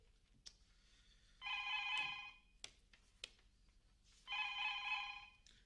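A telephone rings twice in long electronic trills separated by a pause, with a few sharp clicks and knocks in between.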